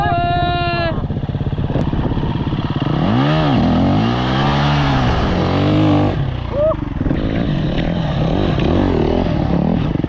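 A dirt bike engine, one of a Honda CRF 250X or a Husqvarna FE 350, revs hard on a steep hill climb, rising and falling in pitch as the rider throttles up the slope, loud and close, with people shouting and talking over it.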